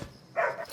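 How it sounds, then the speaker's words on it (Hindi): A pet dog gives a single short bark indoors at night, brief and moderately loud against a quiet room. "अरे क्यों भौंक रहा है?"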